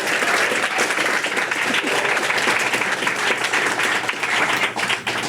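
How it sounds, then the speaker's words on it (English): Strong, continuous audience clapping at a state poetry recitation final, a dense close wash of many hands throughout. "Yes, we can clap."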